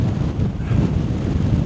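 Gusty wind on a stormy afternoon at Sint-Annaland in the Netherlands, roaring steadily and loudly against the microphone with a dense low rumble and no voices.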